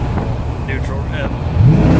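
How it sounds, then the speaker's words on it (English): A 1987 Dodge W150 pickup engine with longtube headers revs in neutral, a low rumbling rise in pitch toward the end with the window down on a cold day, while someone talks over it. "Neutral rev."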